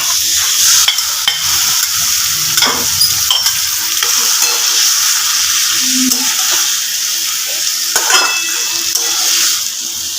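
Mashed banana flower goes into a pan of fried, boiled potatoes and is stirred, giving a loud continuous sizzle with scraping and stirring clatter close by.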